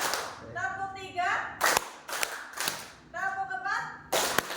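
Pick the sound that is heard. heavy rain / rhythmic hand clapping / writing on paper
rhythmic hand clapping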